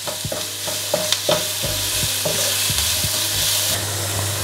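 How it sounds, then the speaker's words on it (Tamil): Onions, chilies and curry leaves sizzle steadily in hot oil, with occasional scrapes and clinks of a spoon stirring the pan. "இப்படி ஒரு மூன்று நிமிஷம் வதங்க விடுவோம்"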